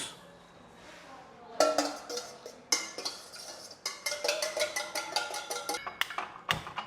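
Spoons clattering and clinking against a bowl while whipping cream by hand, with a brief quiet stretch and then a steady run of close, rapid metallic taps.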